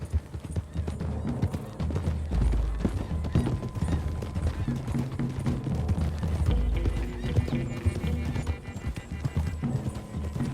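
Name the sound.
horse hooves riding in video game Red Dead Redemption 2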